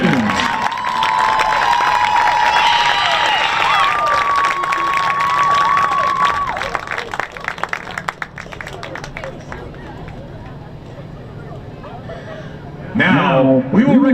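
A crowd at girls lacrosse all-star awards cheering and applauding, with shouts and whistles over a dense wash of clapping that fades into scattered claps and chatter, then a voice speaks.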